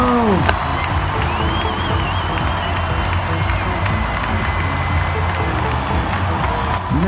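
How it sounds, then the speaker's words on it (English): Crowd cheering and whooping with clapping at a Monster Jam toy truck show, a dense, loud continuous roar with excited shouts and whistles throughout. "the crowd is going wild!"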